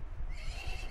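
A horse whinnies in the PS1 video game Road to El Dorado, a single short, fairly quiet neigh with no talk over it.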